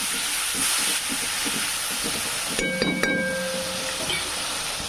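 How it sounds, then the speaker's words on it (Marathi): Tomato frying with onion in a hot pan, a steady broad sizzle and hiss held throughout, with a few faint metallic tones mid-way and no talk. "टमाटर असं छान फ्राय होऊ द्यायचं"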